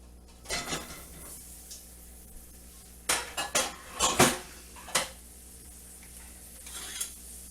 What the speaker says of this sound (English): So we're going to dump our potatoes in.